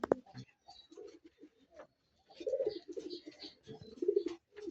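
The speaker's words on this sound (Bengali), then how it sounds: "পারফেক্ট, সুন্দর কবুতর" Pet pigeons coo softly nearby in short, throaty bursts, several rounds of low warbling calls separated by brief pauses.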